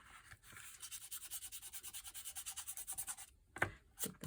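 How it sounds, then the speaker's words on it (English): A sand eraser rubs paint off a surface in quick rhythmic back-and-forth strokes, close and quiet, speeding into a steady scrubbing pattern before stopping, followed by a couple of small clicks. "These are sand erasers. I got them off Amazon. They help get stuff off."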